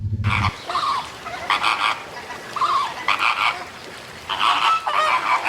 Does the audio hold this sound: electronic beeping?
no